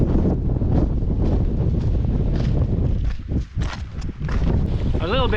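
Strong wind buffets the microphone on an exposed Scottish hill, a constant loud roar with gusty swells throughout, and a voice speaks briefly near the end.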